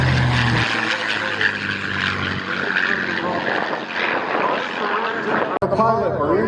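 Propeller jump aircraft flying at the Wings over Camarillo air show, a loud droning engine and prop roar that swells and shifts as it passes, with a voice talking over it.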